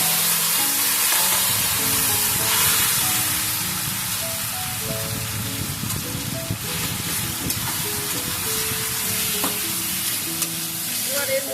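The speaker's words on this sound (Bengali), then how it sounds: "এবার সেদ্ধ করে রাখা কচুর শাকটা আমি দিয়ে দেব।" Boiled taro leaves go into a pan with white cumin for a Bengali dish with hilsa fish head. A loud, continuous sizzle and stirring hiss runs throughout, with soft background music underneath and no speech.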